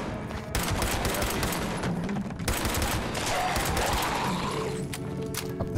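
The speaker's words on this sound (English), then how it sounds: "I'm gonna be shooting some weak feral ghouls." Weapons fire at feral ghouls in the video game Fallout 76: rapid, loud gunshot bursts crackle in quick succession, with a few crashing impacts between volleys.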